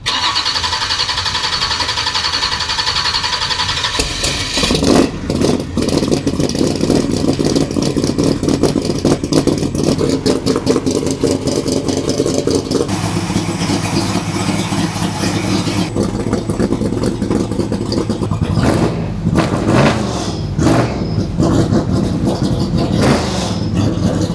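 A Chevy Nova hot rod engine cranks over, catches and runs loud and close, with repeated revs rising and falling over a steady rough idle.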